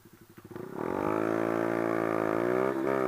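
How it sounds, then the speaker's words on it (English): A motorcycle engine burbles at low revs, then surges into a sustained, loud, rising rev as the rider shifts gears without the clutch, with a brief dip near the end. "clutchless shifting is very simple"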